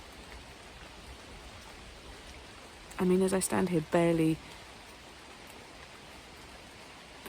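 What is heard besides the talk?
rain falling on leaves outdoors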